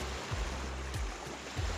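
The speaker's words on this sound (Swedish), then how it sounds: "Nu är jag längs med Luleälven på en alldeles supervacker plats." The Lule River flowing past a sandy beach, a steady rushing wash of water with faint low thumps, close and continuous, with no voices.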